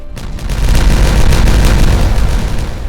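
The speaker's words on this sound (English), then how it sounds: "Oh, looks like this is ready here, so let us detonate it." A detonation explosion in a game while redesigning water flow, a loud sustained rumbling boom that swells quickly and rolls on for about two and a half seconds with no talk.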